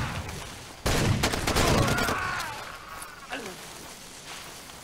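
Enemy gunfire in Far Cry 2, a sudden loud burst of rapid shots and crackling volleys lasting over a second, then sporadic fainter pops, with voices speaking over part of it.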